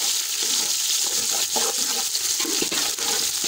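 A cup of onions dropped into a hot pan with dry-roasted whole garam masala for aloo matar pulao, giving a steady, loud frying hiss broken by soft clatters.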